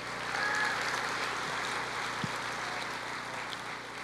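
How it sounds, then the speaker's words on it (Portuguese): Church congregation applauding in worship, a soft, distant wash of steady clapping with a faint room hum beneath it. "Pode aplaudir o Senhor"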